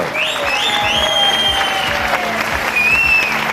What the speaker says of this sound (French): Maintenant, je vous demande d'applaudir Sophie et Yann.